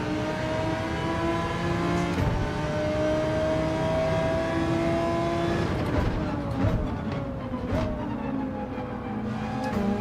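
Race cars in Gran Turismo 7 on the Nordschleife drone steadily with high engine whine, one car surging past near the middle, a continuous loud mechanical hum throughout.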